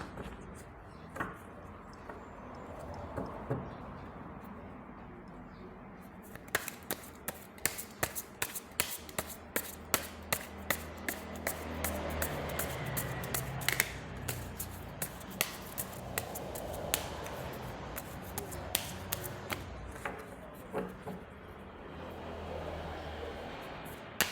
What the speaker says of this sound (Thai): ขอสับไพ่ก่อนนะคะ